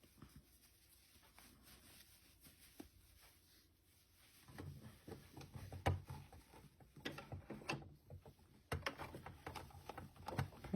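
A sewing machine stitches the joined edges of a fabric scrunchie; after a few quiet seconds, a fast mechanical whirring and clicking starts and runs in uneven bursts, close but fairly soft.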